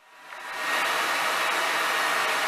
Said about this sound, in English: I'm blow drying my hair so I can get slick.